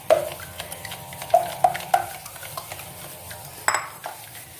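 Lemon juice stirred into a fish marinade in a bowl, a few distinct clinks and taps of a utensil against the dish amid soft mixing sounds, close and quiet.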